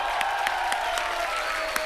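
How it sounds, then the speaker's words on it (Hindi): A crowd applauds at a Hindi comedy stage show, with steady, dense clapping throughout and a few sharper claps rising above it, moderately loud and without any talk. "दादा के लिए जोरदार तालियां"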